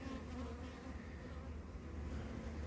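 Honeybees buzz inside an open Langstroth beehive, a faint, dense, continuous hum heard up close with no voices.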